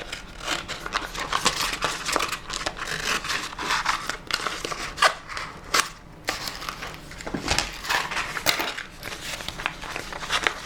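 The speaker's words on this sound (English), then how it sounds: "I'll just cut a big bit." Scissors cutting a large piece of wallpaper for crafting, heard up close as a steady run of crisp snips and papery crinkling rustles, continuous and moderately loud with no talking.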